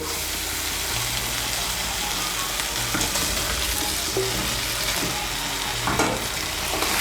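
Fried potatoes are stirred into an oily, well-cooked spice masala for Bengali aloo dum, giving a loud, steady sizzle with occasional scraping and clattering from a spoon against the pan.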